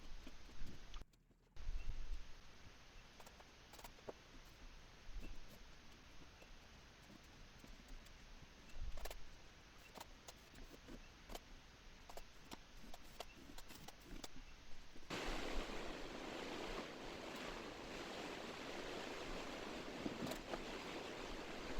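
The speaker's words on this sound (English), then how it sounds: "on this metal roof, sometimes it can get pretty loud." Continuous hiss of heavy Florida afternoon thunderstorm rain drumming on a metal roof, with scattered louder taps, intensifying to a denser, steadier roar partway through.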